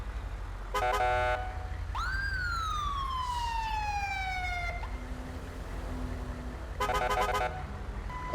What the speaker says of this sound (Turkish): Ne oluyor bir ambulans daha çıkış yapıyor